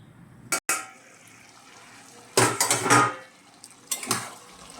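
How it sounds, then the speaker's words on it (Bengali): A metal lid clanks onto a pan of bottle gourd and prawns, a sharp early clatter followed by a louder rattling burst of pot and utensil noise, then another short clink near the end. "এটা ঢাকা দিয়ে দিলাম, এর থেকে একটু জল বেরোবে"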